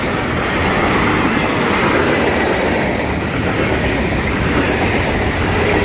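A freight train of boxcars and hoppers rolls past near a steel works, heard from an elevated trackside spot as a loud, continuous rumble and rattle of railcars with clattering wheels and no pauses.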